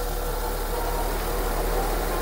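A car engine idles steadily with its electric air-conditioning compressor switched on, giving a close, even hum and rumble with no break and no one talking.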